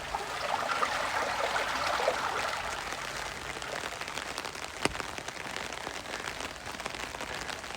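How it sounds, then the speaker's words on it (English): Water running steadily through an irrigation channel beside vegetable gardens and rice fields in rural Japan, a continuous rushing, trickling wash at close range with no voices. "The water's flowing right through the channel here."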